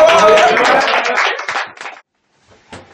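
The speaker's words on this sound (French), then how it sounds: "Ouais, on peut tous applaudir." A small group of radio show guests in a studio clap briefly for about two seconds, close and fairly loud, before the sound cuts off, followed by a faint short sound near the end.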